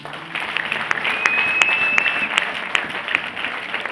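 Congregation applause at a church gathering, a mid-level spread of clapping with a few sharper claps standing out, and a faint whistle-like tone running through part of it.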